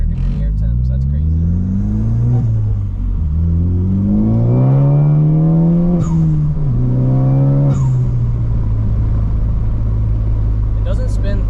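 A Porsche accelerates hard in hot weather, its engine climbing through the revs with a short break at a gear change before pulling strongly again, loud and close above a steady cabin rumble.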